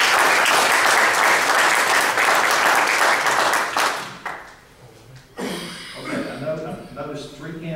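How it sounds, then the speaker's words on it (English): A room at a county Republican Party meeting bursts into loud clapping and cheers for an elected official. The applause fades after about four seconds and gives way to scattered noise and voices. "I'd like for everyone to give him a round of applause"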